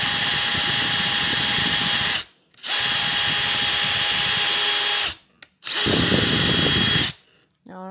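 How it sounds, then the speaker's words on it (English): A power drill whirs loudly in three long bursts with brief pauses between, steady high-pitched motor whine boring through a wooden box with a corner key dowel jig, close up. "So let me put my eye protection on and we'll drill a hole."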